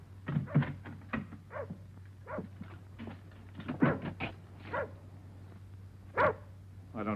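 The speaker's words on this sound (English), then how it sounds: "Is that your dog outside? Yes. I tied him up, but he wouldn't bark unless there was something wrong." Dog tied up outside a farmhouse barking in a run of sharp, irregular barks and yips, moderately close, over a steady low hum.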